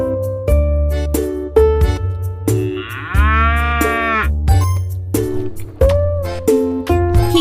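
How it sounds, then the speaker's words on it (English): A cartoon cow in a children's animal feeding game gives one drawn-out moo in the middle of bouncy, rhythmic background music, with no speech. "Meet Molly the cow. Let's feed her."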